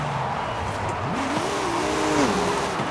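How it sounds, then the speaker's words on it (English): A truck engine runs rough and gnarly, a steady gritty drone with a rising and falling whine sweeping up and back down, close and continuous, with no talking. "this truck sounds like it's fighting off a beehive filled with bats"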